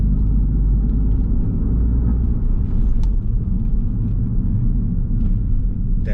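Car fitted with a Racechip XLR tune driving in Sport Plus mode, a heavy low engine and road rumble heard from inside the cabin, steady and loud throughout with a few faint clicks.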